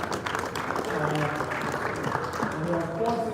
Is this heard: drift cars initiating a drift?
no